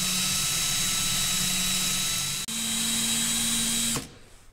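A power drill fitted with a sanding disc polishes the rear wiper shaft of a 2012 Subaru Forester, whining steadily at high speed, its pitch stepping up partway through before it cuts off near the end.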